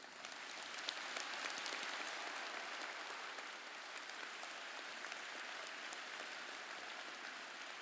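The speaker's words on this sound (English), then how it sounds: "Please give them a round of applause." A graduation audience at Fort Zumwalt North High School applauds parent volunteers, a steady, even wash of clapping that holds for several seconds, faint and distant.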